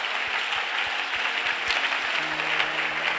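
Steady applause from a church congregation fills the space, a dense wash of many hands clapping together at moderate distance, with no voices standing out.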